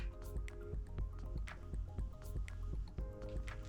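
Water dripping and trickling over cardboard in an icy abstract artwork, a steady run of small close wet drips and squishy patters with no talk.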